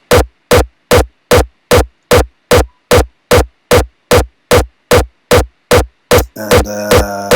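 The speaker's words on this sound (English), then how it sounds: "Then I do a bit crusher, some distortion." A hardstyle raw kick processed with bit crusher and distortion thumps in a steady, evenly spaced run of about fourteen loud, punchy hits, followed by a sustained, buzzing distorted tone at the end.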